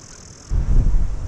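Strong gale-force wind at a harbour in winter, rising suddenly halfway through into a loud, low buffeting roar of gusts striking the microphone, after a quieter, hissy start.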